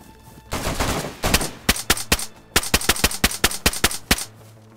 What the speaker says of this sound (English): I hear the shots.